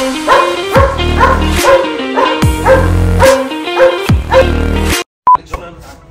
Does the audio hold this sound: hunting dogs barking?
yes